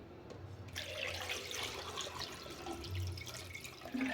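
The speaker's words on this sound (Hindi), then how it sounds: "अब इसमें हम डालेंगे पानी।" Water poured into a kadhai holding eggs while making a Jharkhand-style egg curry, a steady close splashing and running-water rush lasting several seconds with no talk.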